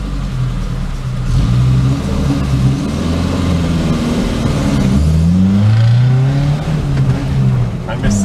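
Engine of a cheap Chinese truck fitted with a new exhaust, revving up through the gears as it drives off, loud and close with rising and falling pitch sweeps.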